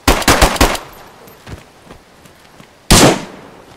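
Gunfire in the survival game DayZ: a quick burst of five or six loud, close shots, a faint distant pop, then one heavy single blast after a short gap.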